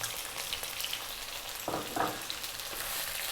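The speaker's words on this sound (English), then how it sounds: "let's get our onion and drop that in" An onion drops into a hot pan and fries with a steady sizzle, two brief louder bursts standing out near the middle as it settles or is stirred, moderately close with no talking, for a Chinese takeaway-style chicken mushroom dish.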